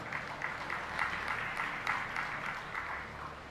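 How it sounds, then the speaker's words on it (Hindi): Audience at a Hindu religious discourse clapping softly, a moderate, even patter of hands that holds steady throughout, heard from some distance and fairly quiet. "जिनको समझ आई उनने ताली बजाई।"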